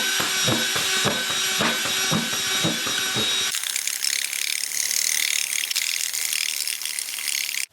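A drill bores 1/8 inch holes in a plastic worm bin: a rhythmic, ratcheting mechanical chatter up close for a few seconds, then it gives way to a smoother, higher whirring hiss.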